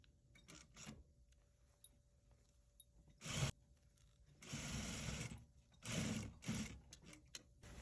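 A sewing machine stitches around a two-layer hoodie neckline with a quarter-inch seam. Soft, rapid stitching comes in short and longer runs, separated by quiet pauses and faint handling noise.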